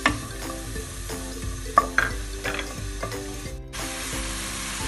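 Finely chopped onion sizzling in olive oil in a pot, with stirring scrapes and clinks of a utensil over steady frying, then a brief pause before the sizzle returns louder; no talk.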